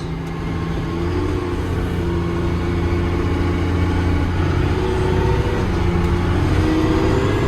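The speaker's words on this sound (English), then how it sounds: "Oh, there's second gear. There's the turbo. There's third. There's fourth." A heavy 5-ton M1085 military truck engine rumbles steadily and loudly, pitch climbing and settling as it pulls through its seven-speed gears with turbo, with no voices.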